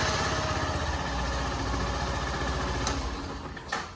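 A motorcycle engine runs steadily in a Torbay repair workshop after an engine-light reset, a close, continuous throbbing idle with a rough low pulse and a couple of brief metallic clicks near the end.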